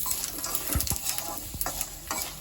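Spiced puffed rice snack mix being tossed and stirred in a hot pan, several clear scrapes and knocks of the spoon over a light, crisp rustle and sizzle, close and with no voices.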